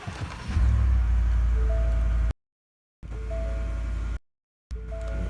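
A 2019 Ford F-150 pickup engine runs with a loud low rumble that stops and restarts twice, and faint tonal chimes sound over the engine noise.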